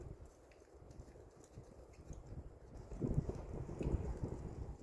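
Hoofbeats of a horse being worked in circles during a riding evaluation, a soft, steady clip-clop in a quiet outdoor setting with light wind, growing a little louder toward the end.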